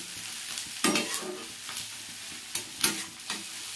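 Soybean curry fries in a pan while a spoon stirs it, giving a soft continuous sizzle broken by several sharper scraping strokes, close by, with no talk.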